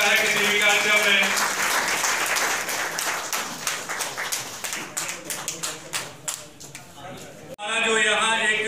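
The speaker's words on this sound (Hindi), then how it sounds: "तालियां बजती रहे तो अच्छा लगता है किसी भी कार्यक्रम में" An audience at a smart prepaid meter app launch in Siwan, Bihar, breaks into loud applause that thins into scattered individual claps, then gives way to a voice and tonal sound near the end.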